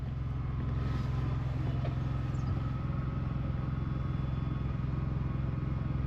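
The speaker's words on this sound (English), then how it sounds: "I should hear the generator go under load" RV generator in a Travato camper van runs under load in winter, a steady low mechanical hum with faint rhythmic clatter, continuous and fairly quiet throughout.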